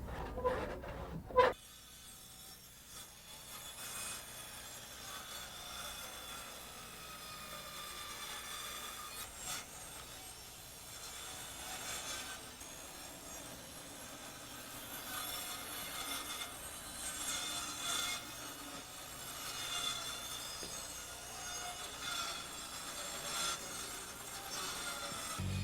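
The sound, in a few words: handsaw cutting a wooden deck corner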